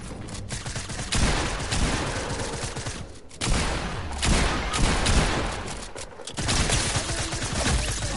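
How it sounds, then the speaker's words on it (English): Rapid SMG fire sprays in long overlapping bursts during a Fortnite match, steady and dense with short gaps between volleys, moderately loud and close. "What is this SMG spam?"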